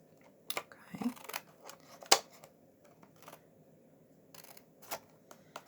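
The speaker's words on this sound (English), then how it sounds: "I can run my scissors edge right along there and get a real nice straight cut" Scattered crisp snips and crunches of scissors cutting through thick card, irregular and close, with quiet pauses between cuts.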